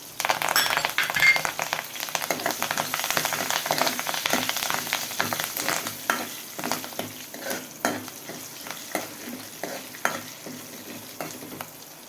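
Curry leaves sizzling and crackling in hot oil in a pan, a loud steady frying hiss with sharp pops and occasional stirring clinks that slowly settles and fades toward the end.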